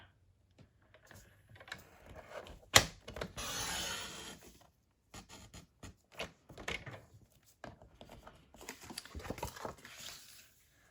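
A paper cutter trims card stock along a score line, heard as a sharp snap followed by a brief sliding swish of the blade through card and then scattered light taps and rustles of the paper being handled, close and quiet.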